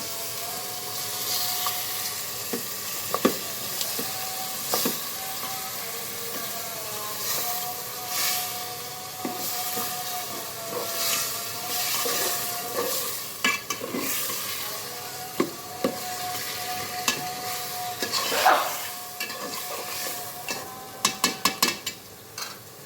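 A rohu fish head sizzles steadily in a pan with a little water, with scraping and stirring clatter throughout and a few sharp utensil knocks near the end.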